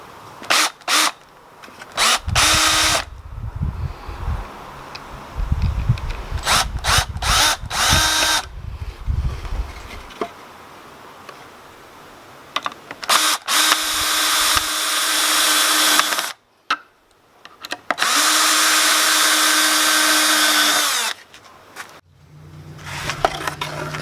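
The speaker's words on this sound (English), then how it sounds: "pilot holes, 2 screws, screw the backboard in place" A power drill drives screws into a wooden beehive backboard, with several short whirring bursts followed by longer sustained runs, close and loud, separated by pauses and handling knocks.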